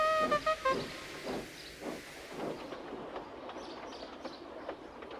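A steam engine pulling into a large station on a local run, with a whistle at the start followed by puffing, hissing and rolling wheel clatter that fades gradually.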